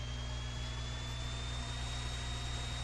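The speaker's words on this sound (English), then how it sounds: "Fire the engines." Aircraft engines drone in a video game, a steady, low, continuous rumble with a faint thin whine rising slowly above it, fairly quiet and unbroken.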